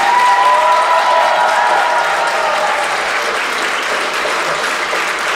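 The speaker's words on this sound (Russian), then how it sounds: "давайте мы его поддержим громкими аплодисментами" Audience applause fills a concert hall at a Loktev Ensemble performance in a house of culture, loud and steady clapping from a large crowd that holds for several seconds, easing only slightly toward the end.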